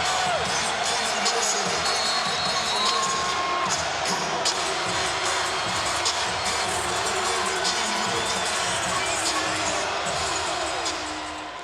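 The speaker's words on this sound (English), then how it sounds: "And the crowd quiets as Oklahoma controls the tap." Basketball arena crowd at Kansas hosting Oklahoma State, a steady broad murmur of spectators at moderate distance, with scattered shouts and faint whistles, continuous throughout.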